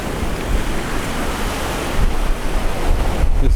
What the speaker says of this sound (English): Over the last couple of days it has been very windy.